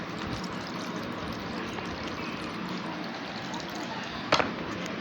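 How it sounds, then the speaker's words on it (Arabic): Water poured or run into a bowl of rinsed kidneys in a home kitchen, a steady soft rushing splash with a brief sharper clink near the end. "واحط كده فيها ميه"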